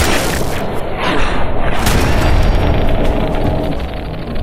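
Explosion in the video game Fallout 4: Nuka-World, a loud, sustained rumbling boom filling the whole stretch with dense low-end roar and crackle, close and overpowering.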